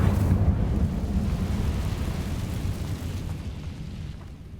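Incendio fire spell in Hogwarts Legacy: a deep rumbling roar of flame, loud at the start and slowly fading over several seconds, with no voices.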